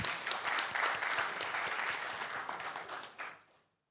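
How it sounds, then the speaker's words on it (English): An audience applauds newly elected board members at an internet registry meeting, a dense, steady round of clapping that holds for about three seconds, then tapers off quickly into silence. "can we give them a round of applause, please?"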